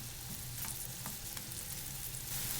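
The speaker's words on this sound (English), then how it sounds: "So we're going to saute the onions." Onions sautéing in a pan for smoked salmon pasta give a quiet, steady sizzle with faint crackles and occasional stirring scrapes, close by and unaccompanied by talk.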